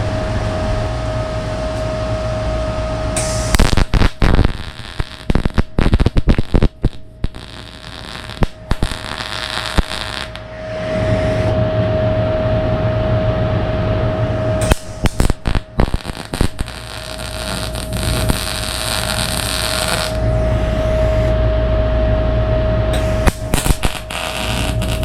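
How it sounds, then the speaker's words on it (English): Steel straps are tack welded on a 1977 Pontiac Trans Am, with several bursts of loud crackling arc welding separated by a steady machine hum and whine. "I'm going to go ahead and unbolt this and tack weld it."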